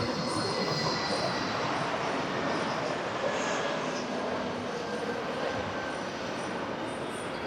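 An airplane roars overhead outside a pizza restaurant, a broad, steady rushing drone that fills the whole stretch at moderate distance with a faint whine riding on top.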